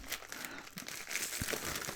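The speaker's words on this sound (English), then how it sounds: "We've got a plastic bag." Crinkling of a plastic bag around an ink sample as it is handled and opened, a soft continuous rustle with small crackles, close and alone.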